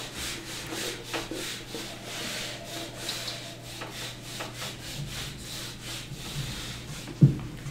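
Writing is rubbed off a board in repeated, rhythmic scrubbing strokes, close and fairly quiet, ending with a single sharp knock.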